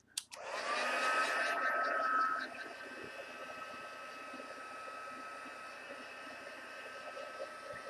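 A hair dryer blows loud and steady for about two seconds over wet shimmering mist paint, then drops to a lower, continuous whir that runs to the end.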